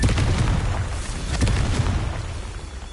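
A Confringo fire spell in Hogwarts Legacy bursts with a loud, dense explosion, a roaring rumble with crackling pops that slowly fades over a few seconds.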